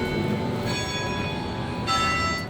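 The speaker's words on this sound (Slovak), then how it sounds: "Práve dozvonili zvony" Church bells at a cathedral in Manila ring steadily with sustained metallic tones, fairly faint and distant, with a fresh strike near the end.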